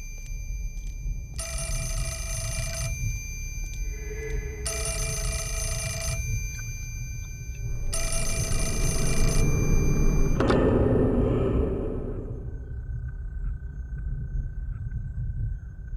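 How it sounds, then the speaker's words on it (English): A telephone rings in the video game Fatal Frame 4, three long bursts of an old-style bell ring separated by pauses, followed by a low rumbling swell and an eerie lingering tone. "I do hear the familiar ringing of a telephone, which means that we get to have another ghostly phone call"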